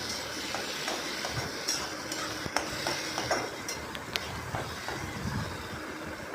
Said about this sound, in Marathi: टमाटा पण हलवून घ्यायचा आहे. थोडं मीठ